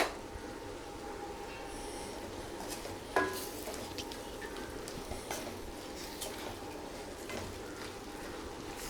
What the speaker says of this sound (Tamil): எல்லா பக்கமும் படுற மாதிரி நல்லா கிண்டி விடுங்க